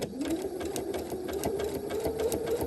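A sewing machine runs steadily, sewing a zigzag stitch along the edge of a straight stitch, its needle clattering in a fast, even rhythm over a continuous motor hum, close and alone.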